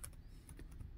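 Fingers type on a laptop computer keyboard, a steady run of close, light clicking keystrokes with an even, quick rhythm and no voices.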